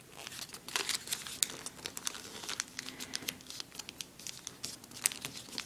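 Paper crinkling and creasing while an origami swan is folded, a close, steady run of soft crackles and small sharp crinkles with no talk over it.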